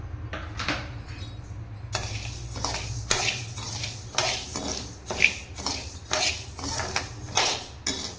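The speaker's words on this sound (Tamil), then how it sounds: "இப்போ நம்ம கடை சூடாயிடுச்சு கம்பு சேர்த்துக்கலாம்" Pearl millet roasts in a hot kadai: dry grains rattle and scrape against the metal with repeated clinks and stirring strokes, close and fairly loud.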